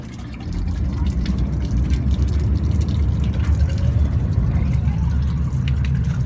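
Water sample collector dropped on a rope into open water for a plankton survey, a sustained splashing and gurgling wash with steady sloshing, close and fairly loud.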